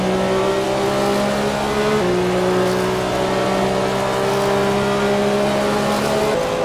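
Porsche short-tail race car heard onboard at Le Mans 1985 in a racing video game, a loud steady engine drone holding high revs with brief gear-change dips, continuous and close with no voices.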